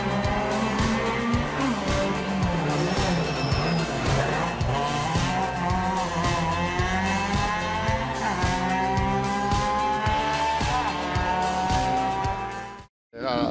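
A small Fiat 127 Sport rally car races hard at a rally, its engine rasping loud and close through repeated gear changes while tires squeal and skid throughout, ending in a brief dropout.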